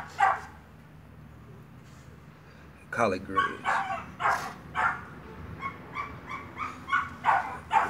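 Pitbulls waiting to be fed bark and yip excitedly in short repeated bursts, fairly close, while someone talks briefly over the start.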